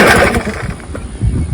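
Vintage outboard motor fitted with a replacement magneto being yanked with its pull-cord starter several times but not firing; rapid cranking churn and rattle close up, with no sign of the engine catching.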